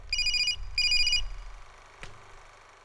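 A telephone rings in two bright electronic bursts, followed by a soft click as the handset is picked up, in a quiet room in a Hindi thriller film.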